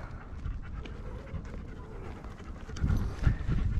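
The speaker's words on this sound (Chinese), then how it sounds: "看这狗狗好可爱。" A dog pants steadily near the old walls of Gori Fortress in Georgia on an early evening, its quick breaths soft at first and growing louder and closer toward the end, with faint outdoor ambience behind.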